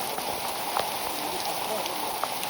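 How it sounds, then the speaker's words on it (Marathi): Heavy rain pours steadily on a forest trail during a monsoon trek up a ghat, a dense, even hiss of drops with a few louder nearby drips and no pauses. "फुल पाऊस चालू आहे मित्रांनो."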